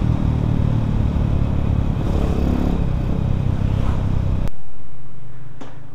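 Modified Yamaha Vixion supermoto motorcycle being ridden, a loud steady engine roar with rumbling wind that cuts off abruptly near the end, leaving a quiet low hum.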